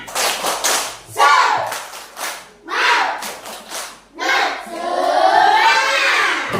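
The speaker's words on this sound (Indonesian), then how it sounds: "Tepuk semangat." Schoolchildren in an Indonesian classroom perform a rhythmic clapping chant, with bursts of clustered claps and loud group shouting that alternate with brief gaps, ending in a longer burst of excited voices.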